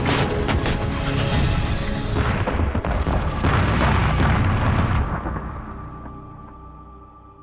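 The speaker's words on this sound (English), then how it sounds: "At times, the supporting artillery was the only thing slowing the Chinese advance." Artillery barrage during a Korean War battle: heavy, overlapping explosions and booming blasts rumble loudly and continuously, then slowly fade away toward the end, with no voices.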